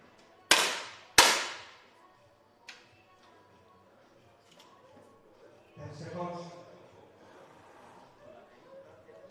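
Two sharp, loud 10m air rifle cracks fire in quick succession at a visually impaired mixed para shooting final, followed by a fainter third pop and then quiet hall murmur with voices.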